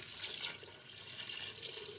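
Water pours into a pot of beef pieces for salted meat, a short, soft, steady splashing trickle heard up close.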